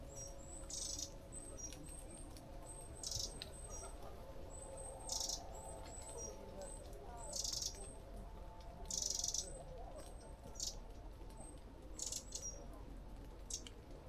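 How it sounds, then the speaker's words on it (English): A robin, a dunnock and a wren chirp and call loudly in short repeated bursts over steady outdoor background noise on a Dutch island, with no talking. "A robin, a dunnock and a wren were all calling loudly."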